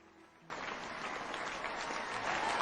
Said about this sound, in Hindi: इनके लिए एक जोरदार ताली से वेलकम करें।